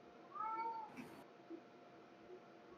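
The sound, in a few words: cat yowling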